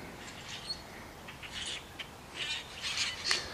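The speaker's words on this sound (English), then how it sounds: "the blackbird is very limited they have three words in their entire vocabulary squawk squeak and squack" Blackbirds in a tree give repeated harsh squawks and squeaks in irregular bursts, moderately close over a soft outdoor background.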